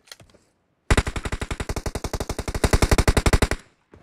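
Automatic rifle fire in PUBG Mobile: a few faint shots, then a long, loud burst of rapid, evenly spaced rounds lasting nearly three seconds before a brief pause and one last faint shot.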